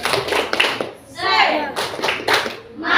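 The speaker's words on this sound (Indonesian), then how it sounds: "Tepuk semangat" Children in a classroom perform a rhythmic spirit clap chant led by their teacher, short bursts of clapping in a pattern alternating with chanted young voices, close and lively.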